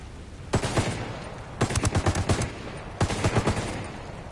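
Automatic gunfire in the video game Ghost Recon, three loud bursts of rapid shots separated by short pauses, the middle burst longest, over a quiet background.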